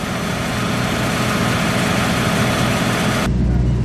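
A heavy boat engine idles with a loud, steady low rumble and broadband noise, cutting to a quieter hum near the end.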